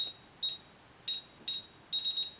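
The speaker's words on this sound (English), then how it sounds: "The panel will beep 3 times to confirm the code was accepted." A fixed DSC security keypad panel gives short, high electronic beeps, a few single chirps followed by a quick triple beep, faint and alone over a quiet background hiss.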